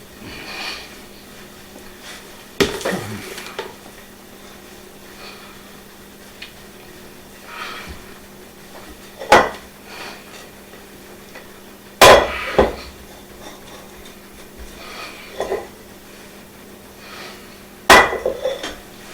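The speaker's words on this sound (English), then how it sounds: "I'm going to pull it out of the bowl here. And just knead it on the counter for a while." Irish soda bread dough is kneaded by hand on a kitchen counter, giving a handful of scattered soft thumps and knocks against a quiet background.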